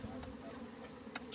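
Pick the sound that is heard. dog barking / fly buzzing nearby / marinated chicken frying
fly buzzing nearby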